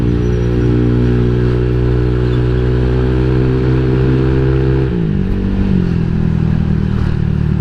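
A Honda Vario 150 eSP scooter fitted with BRT carbon valves runs hard at speed, its loud, steady engine drone shifting pitch partway through amid wind rush.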